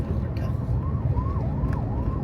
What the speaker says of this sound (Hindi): ये देखो एम्बुलेंस कहाँ आ रहा है